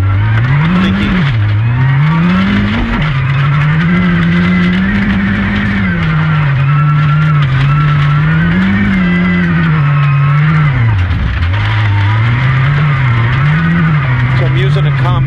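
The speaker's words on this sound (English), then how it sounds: "Here I trail brake into a pendulum turn for the brake in the turn" Rally car engine running loud and close, held at a steady drone with rising and falling pitch as it slows and swings through a turn.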